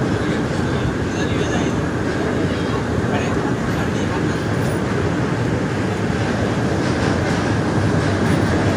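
A train runs along tracks near the Godavari river at Rajahmundry, a loud continuous rumble with rattling wheels and clatter that stays close and steady throughout.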